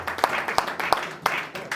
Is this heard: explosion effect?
no